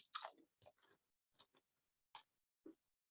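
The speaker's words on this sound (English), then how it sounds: "These are good chips, yo. I mean, they've got that crunch." Crunching on Flamas flamin' hot corn chips: a loud, close bite followed by several sharp, crisp chewing crunches spaced out over a few seconds, with quiet gaps between them and no talking.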